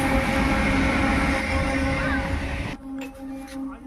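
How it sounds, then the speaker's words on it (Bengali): A train rolls past at close range, a loud, steady rumble with clattering wheels that cuts off abruptly near the end, leaving quieter intermittent noise. "আর দেখো ট্রেন যাচ্ছে"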